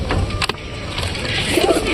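Pigeons cooing while pairing up: soft, low cooing notes close by over a steady background hum, brief and continuous through the moment.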